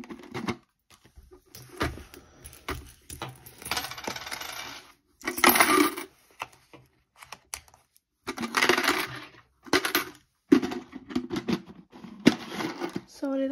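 Coins totalling 57 pence clatter loudly into a metal tin in several sharp, jingling bursts, separated by brief pauses.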